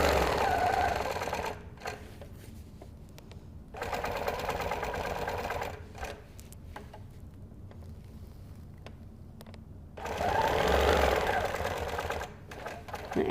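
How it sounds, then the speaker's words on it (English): Quilting sewing machine with a hopping foot stitching in the ditch on a quilt, running in steady loud bursts of fast rhythmic clatter with brief quieter pauses between runs. "I'm just going to stitch in the ditch until I get the edge of my foot to line up with my previous stitches."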